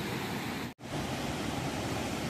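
The waterfall at Salto Apucaraninha roars as a dense, steady wash of rushing water, loud and close, broken only by a momentary dropout before the torrent resumes unchanged.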